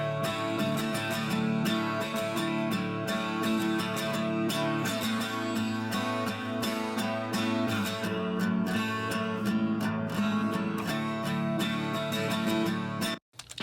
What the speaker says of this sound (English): So these 2 acoustic guitars sound like this.